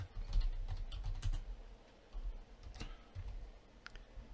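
Quick, light clicks of a computer keyboard as a string name is typed during setup of a Solmetric PV 1500 solar analyzer, a steady run of keystrokes close up and alone, with a few louder taps.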